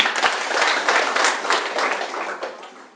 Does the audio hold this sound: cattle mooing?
no